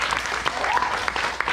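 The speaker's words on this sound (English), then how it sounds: "Hold for massive applause." A comedy club audience claps for a stand-up comedian, a short burst of dense applause with a few sharper individual claps standing out.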